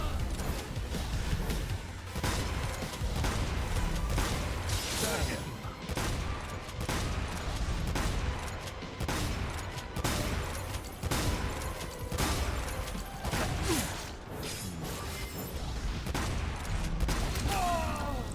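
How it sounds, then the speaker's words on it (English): Continuous heavy gunfire and blasts from a shotgun in the Devil May Cry 5 video game, loud and dense over combat noise throughout. "I know this is a sword fight, but I've literally got a shotgun."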